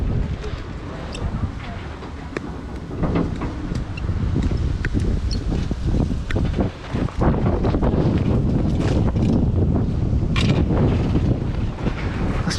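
Strong gusts buffet the microphone outdoors on a dusty, windy day at a scrap metal yard, a constant rumbling roar with bursts of rustling and someone speaking underneath.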